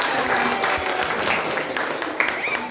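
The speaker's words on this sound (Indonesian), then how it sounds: "tepuk tangan buat kita semua" Applause from a classroom of participants follows a group exercise, a steady dense patter of clapping that fills the whole stretch at moderate loudness.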